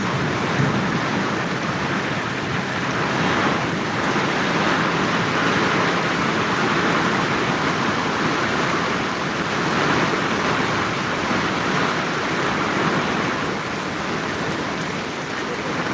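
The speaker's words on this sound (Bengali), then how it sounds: "ঢাকায় চলছে প্রচণ্ড বৃষ্টি এবং বাতাস সেই সাথে চলছে বজ্র" Heavy rain pours in a dense, steady roar that never lets up, with no voices, during a nor'wester storm with wind and thunder in Dhaka, Bangladesh.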